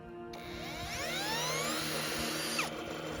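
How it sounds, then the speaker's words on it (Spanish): A cordless drill whirs steadily at close range, spinning a generator, its pitch climbing and wavering as it spins up, then cutting off near the end. "Y con un taladro de batería, damos un movimiento inicial al sistema."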